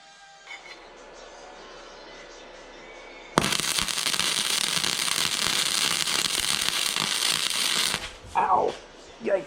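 Metal for a solar panel frame being cut with a power tool, a loud, steady grinding rasp starting abruptly partway through and running about four seconds before stopping, followed by brief clattering handling noises.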